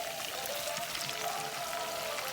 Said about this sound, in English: I'm going to add the water to it.